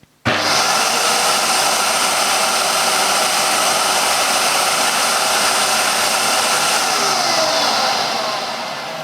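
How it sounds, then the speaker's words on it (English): A Hoover Purepower U3430 upright vacuum cleaner with a stretched belt switches on abruptly and its agitator spins up to a loud, steady whirring drone that runs evenly for several seconds, then begins to wind down near the end, heard alone without talk. "Let's see the agitator spinning anyway."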